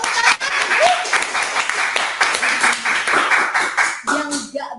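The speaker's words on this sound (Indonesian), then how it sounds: "Tepuk tangan." Crowd applause and clapping at a live closing event, loud sharp claps close by in a steady burst, with a voice briefly audible near the end.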